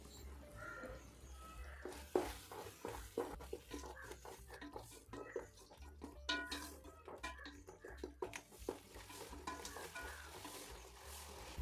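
Arabic masala being stirred in a pan for chicken madhooth, with a steady sizzle under repeated scraping and clinking of a spoon against the pan, close and moderately loud.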